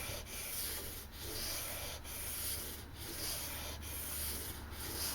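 A reworked kitchen knife's new bevel is sanded back and forth, each stroke a steady rasping rub with brief pauses at the turns, close and fairly quiet.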